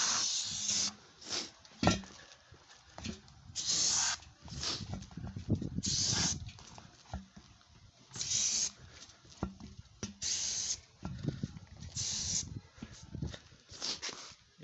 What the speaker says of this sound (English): spray the cleaner inside the tire well, inside the wheel well here,